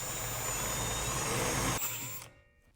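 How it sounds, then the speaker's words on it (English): A power drill whines steadily while cutting a large stepped hole with oil as lubricant for a Ryobi 48V battery bracket, then winds down and stops abruptly. "You'll want to drill until you just start the 4th step."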